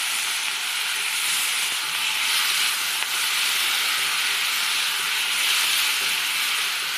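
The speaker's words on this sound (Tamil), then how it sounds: "வெங்காயம் நல்லா வதங்கியிருக்கு. அதுக்கு பிறகு அது கூட தக்காளியை போடுங்க." Chopped onions and tomatoes sauté in a pan for a mushroom dish, giving a steady, close, even hiss of sizzling with no pauses and no voices.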